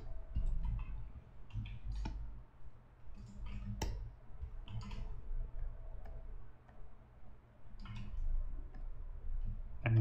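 Scattered computer mouse clicks sound over a low room hum while a digital painting is brushed, several sharp isolated ticks spaced irregularly and fairly quiet.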